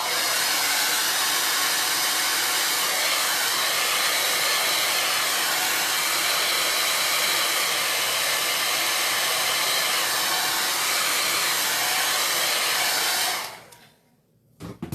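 A hair dryer blows steadily and loudly on freshly wiped chalk paint on a board, a broad continuous whoosh that runs without a break for about thirteen seconds before cutting off abruptly into near silence.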